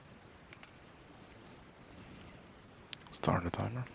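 Computer keyboard typing comes through as scattered, faint clicks over a quiet room background, ending in a brief louder burst of activity near the end.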